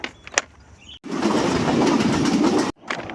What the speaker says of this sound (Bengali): বলতে না বলতেই সামনে ট্রেনের শব্দ শুনতে পাচ্ছি